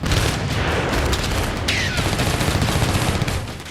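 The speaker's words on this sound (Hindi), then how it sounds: "इस धमाके के बाद यूक्रेन के बारूद में विस्फोट होने लगे।" Rapid crackling bursts of exploding munitions pop and rattle continuously in a dense, chaotic barrage as a Ukrainian weapons depot at a port burns after a Russian strike.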